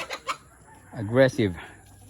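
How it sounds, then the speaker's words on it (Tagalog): An aggressive white rooster clucks in a backyard flock, two faint short clucks followed by a louder, drawn-out pair of throaty calls, close and alone. "Yung isang white rooster nandun, inilabas ko kasi ay aggressive."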